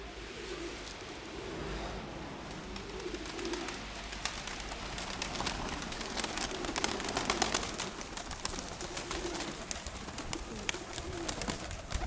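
Racing pigeons at the loft coo repeatedly in low, rolling phrases, several birds overlapping against a steady background rush of air.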